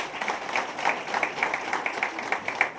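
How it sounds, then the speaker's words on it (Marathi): Steady applause from an audience at a hospital gathering honouring a doctor: many hands clapping in a dense, continuous patter that holds fairly level for the whole stretch, with no voices standing out. "त्यांच्यासाठी जरा एकदा जोरदार टाळ्या"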